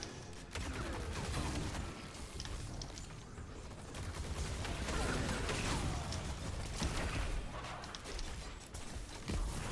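Rapid gunfire from ricochet bullets in a video game, a dense continuous barrage of shots with clattering impacts layered over game effects, loud and sustained throughout.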